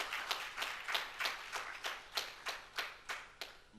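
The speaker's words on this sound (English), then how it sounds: "definitely give him a round of applause" Applause in a mosque comes through as faint, regular clapping. About a dozen evenly spaced claps follow one another at a steady rhythm.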